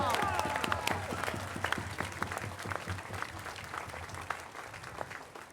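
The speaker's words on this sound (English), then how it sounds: "one final round of applause" An audience at a Fourth of July event at the National Archives in Washington, D.C. gives a final round of applause, steady dense clapping with some crowd noise, loud and close throughout.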